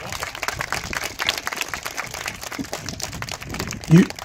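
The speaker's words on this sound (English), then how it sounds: "Give yourselves a round of applause." Scattered applause and clapping from a crowd at a youth football rally, moderately loud and continuous, with a few voices mixed in.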